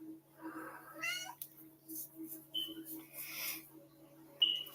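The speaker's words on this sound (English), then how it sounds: "Sorry, my kitty's going loud." A house cat meows insistently at close range, a few drawn-out rising cries mixed with short chirps in a quiet room, with a faint steady hum underneath.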